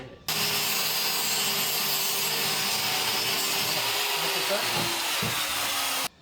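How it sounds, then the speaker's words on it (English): An angle grinder grinds the edge of a John Deere quick attach loader arm, giving a steady, loud, close abrasive whine that runs for several seconds before stopping abruptly. "let's grind this edge. Grind that, both sides"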